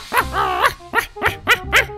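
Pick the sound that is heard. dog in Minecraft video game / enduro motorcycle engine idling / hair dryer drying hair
dog in Minecraft video game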